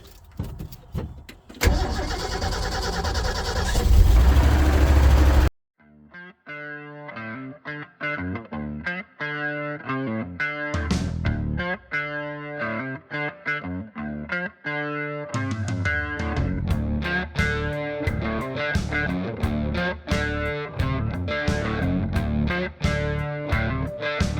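A 1974 Ford flatbed truck cranking with the key and catching, a loud strained starter burst that gives way to a rough, rhythmic running engine with pulsing revs through the rest.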